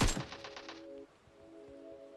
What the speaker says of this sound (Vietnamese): em nghe tiếng súng bên kia rồi